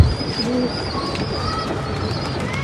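Pigeons coo nearby in soft, repeated low calls, with faint higher chirps and light background noise around them, a short, fairly close recording.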